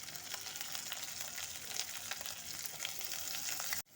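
Red amaranth leaf paste with chili and asafoetida fries in a pan, a steady, close, bright sizzle with faint stirring scrapes throughout, cutting off abruptly just before the end; no one talks.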